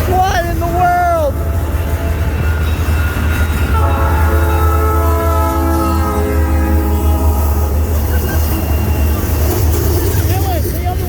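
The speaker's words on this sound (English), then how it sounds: "Two trains!" Two CN freight trains pass in Battle Creek, Michigan, with a loud steady rumble of rolling wagons throughout and a sustained horn blast in the middle, close by, with excited voices briefly audible.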